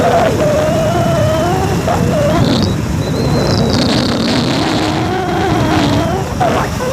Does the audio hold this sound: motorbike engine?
yes